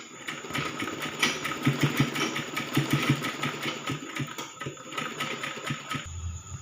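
A sewing machine stitching a frilled baby frock runs in a steady, rapid mechanical chatter with a fine rhythmic pulse, continuing evenly near the microphone for several seconds before stopping just at the end.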